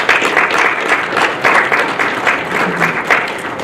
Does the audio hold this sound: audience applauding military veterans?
yes